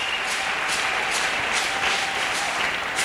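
A church congregation claps and applauds for Jesus, a dense, steady wash of many hands clapping close and loud throughout, with no pauses.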